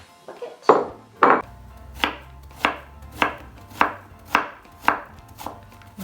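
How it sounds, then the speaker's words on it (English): A knife thinly slices vegetables such as zucchini into matchsticks for Korean vegetable pancakes, landing as about nine crisp, evenly spaced chops on a cutting board, close and loud with no talk. "you want to thinly slice them so that they stick really well to the pancake"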